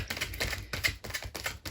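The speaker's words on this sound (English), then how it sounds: "So I'm going to start shuffling." An oracle card deck is shuffled close by: rapid, crisp papery ticks in short repeated bursts, with no talk.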